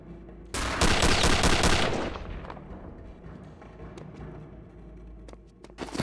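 Pistol gunfire in the shooter game Return to Castle Wolfenstein: a loud, dense burst of shots for about a second and a half, trailing into echoing reverb, then scattered single cracks near the end.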